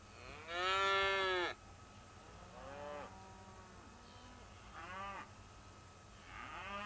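A cow in a handling pen gives a loud, drawn-out moo followed by three shorter, fainter lowing calls spaced a second or two apart, over quiet background rumble.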